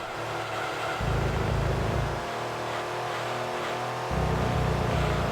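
A race car engine in Gran Turismo 2 on PlayStation revs hard and upshifts repeatedly, with loud accelerating engine drones broken by abrupt gear changes about a second apart; no talking.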